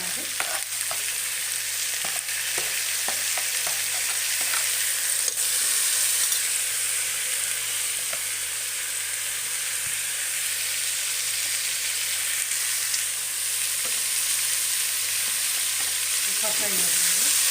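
Chopped carrot, kohlrabi and tomato frying in a pan for pulao, a loud, even sizzle running throughout with occasional faint clinks of stirring, up close and without speech.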